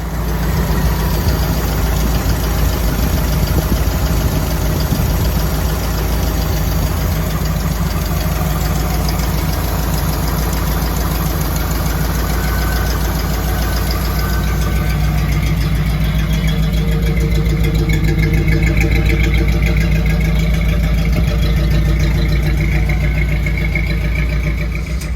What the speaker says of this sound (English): Let's get the engine cranked up.